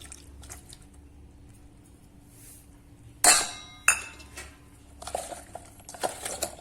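Gunda and raw mango pickle ingredients with turmeric stirred in a bowl, quiet scraping and squishing broken by two sharp clinks of a utensil against the bowl, then more brisk stirring.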